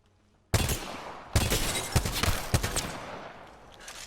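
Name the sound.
burst-fire weapon shooting in a video game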